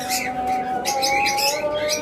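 A pet lovebird pair, blue female and lutino red-eye male, give bright chirps and short calls close by over a constant hum.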